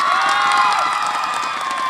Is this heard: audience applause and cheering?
yes